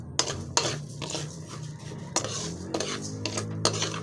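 Rice and coffee being stirred in a pan while roasting together for coffee rice. Repeated metal spatula scrapes and clinks against the pan sound close and steady over a low background hum, with no talking.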